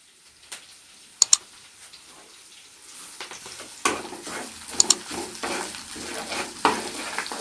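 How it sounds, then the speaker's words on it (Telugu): Ginger paste fries in a pan, a soft sizzle that grows louder partway through, punctuated by sharp clicks and taps of a spoon stirring against the pan. "పచ్చి వాసన పోయిందాకా అల్లం పేస్ట్ ఇలానే వేయించుకోవాలి"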